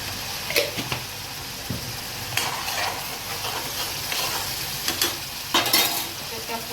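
Masala being stirred into pulao in a pan over low flame, with a soft ongoing sizzle broken by repeated scraping and clinks of a spoon against the metal, close by.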